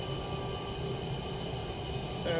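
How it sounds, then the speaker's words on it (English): A small used electric fan runs beside a boiling pan of maple sap, giving a faint, steady hiss of moving air that continues unchanged throughout. "The sound you hear is my new used fan."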